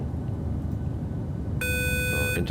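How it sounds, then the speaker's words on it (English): A cockpit interphone chime in the PMDG 737-800 flight simulator: a bright electronic tone sounding for about a second over steady engine and air noise. "Interphone is ringing."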